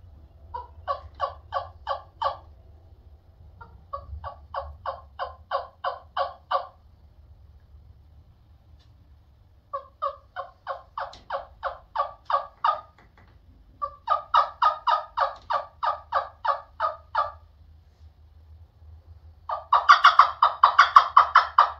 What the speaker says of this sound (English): Now I'll let you hear this hen wing bone.